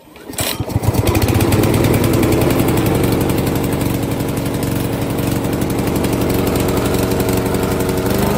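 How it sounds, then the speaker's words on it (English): Small petrol engine on a wheeled radio-controlled grass cutter (VTW550-90) catches after a manual pull start, a brief rattling crank giving way to a steady, loud, close running drone that holds to the end. "Another way to start your engine. Manual pull start."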